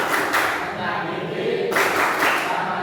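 A group of schoolchildren in a classroom counselling lesson clap in rhythm during an anti-bullying clap chant, with bursts of claps at the start and again midway and voices chanting over them.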